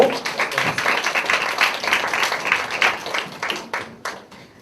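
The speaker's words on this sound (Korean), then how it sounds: "나오실 때 우리 환영의 박수로" A university-group worship congregation at a Korean church claps to welcome the pastor to the pulpit, a dense patter of hands that stays steady, then thins and fades near the end.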